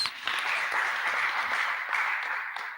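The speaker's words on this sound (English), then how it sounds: "Can we give another round of applause" An audience at a conference communique presentation claps in a sustained, even burst of applause, moderately loud and filling the room with no talk over it.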